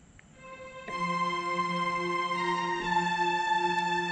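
A sustained string voice on a Kurtzman K300S church organ holds a rich chord of steady overtones, entering after a brief soft note and swelling slightly as more notes join, with no talk.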